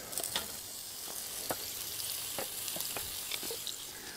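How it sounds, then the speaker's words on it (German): Sausage and onion frying in a pan on a rocket stove outdoors, a steady close sizzle broken by several sharp pops and crackles of spattering fat, with no voices. "wenn die Zwiebel so schön Blasen wirft, kommt natürlich direkt die ganze Wurst dabei"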